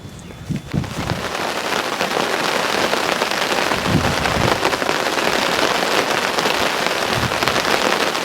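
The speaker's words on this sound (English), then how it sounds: "As you can hear and see, it's absolutely peeing down with rain." Heavy rain pours steadily in a dense, loud hiss, drumming on a nearby bivvy shelter surface, no voices.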